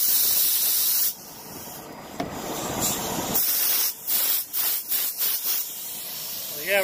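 Air hisses from a leaking air bag on a new trailer, a sustained spray-like rush that cuts off and returns in several short, uneven bursts near the end.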